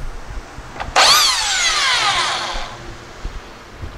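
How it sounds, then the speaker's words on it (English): A belt sander works wood resting on a non-slip sanding pad, starting abruptly with a loud motor whine that holds steady for about two seconds and then winds down into quiet. "Let's see how this does now, even with a belt sander."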